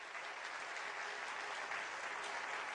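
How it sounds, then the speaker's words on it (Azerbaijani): An audience at a live Azerbaijani ashiq music event claps steadily to welcome Ashiq Selcuq Shahbazi on stage, a dense, even wash of applause heard at moderate distance, alone without talk. "Sizin gözəl alqışlarınızla"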